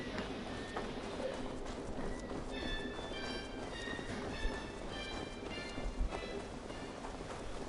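Horse hooves clip-clopping in a video game, a faint, steady patter of hoofbeats under a soft background wash, with a few brief tonal game sounds layered on top.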